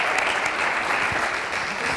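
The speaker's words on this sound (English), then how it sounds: "please a round of applause for all the organizers" A crowd at a developer conference keynote applauds steadily, a thick, even wash of clapping hands with no pauses.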